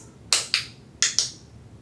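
A click stick target-training clicker for dog training is pressed four times, in two quick pairs of sharp, bright clicks close by against a quiet background.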